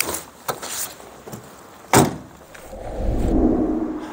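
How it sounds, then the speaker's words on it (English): A truck door is swung fully open onto its catch, with a sharp metallic clack near the middle, a few lighter knocks before it, and a low rumble building afterward as the driver climbs out. "open the door fully onto the door catch"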